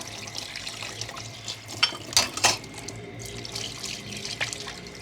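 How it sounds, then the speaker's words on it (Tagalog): Used dishes and utensils washed under a running tap, steady water splashing into a sink with a few sharp clinks of dishware, close and alone. "hugasan naman po natin itong ating mga ginamit"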